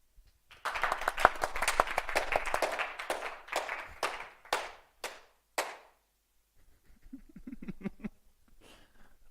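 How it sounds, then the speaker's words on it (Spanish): Audience applause welcoming a speaker at a game hacking talk, a burst of clapping that thins out into scattered claps, followed by a few more faint claps and murmurs. "recibámosle con un aplauso"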